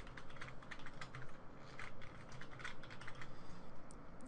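Rapid, steady typing on a computer keyboard while entering a password during an Ubuntu install, close and clear, with no talking.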